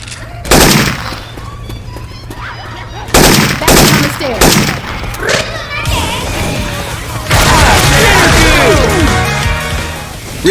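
Loud, punchy weapon fire from the Syphon Filter game, swapped into Left 4 Dead 2 zombie co-op play, comes as several separate shots and then longer rattling automatic bursts, with crashing impacts and character voices in between.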